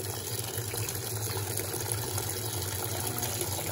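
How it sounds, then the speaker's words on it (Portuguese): An Electrolux Blue Touch 12 kg LB12Q washing machine, loaded with bath towels and hot water, runs with a steady low hum and a watery wash swishing faintly as the drum turns slowly. "Ela gira bem devagarzinho assim mesmo."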